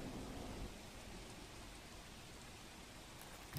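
Heavy monsoon rain pours steadily in Palanpur, a dense, unbroken hiss of downpour with a low rumble underneath, loud and close throughout.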